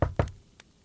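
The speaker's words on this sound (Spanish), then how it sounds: "Entonces, Isabel Llegó tocando fuerte la puerta, sin miedo." Two loud knocks on a door in quick succession, followed by a faint third tap, close and with no one speaking.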